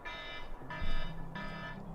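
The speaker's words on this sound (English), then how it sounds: "my alarm going off on my phone here" A phone alarm goes off close by, sounding three repeated bright electronic tone bursts in a steady rhythm at moderate volume, with no speech.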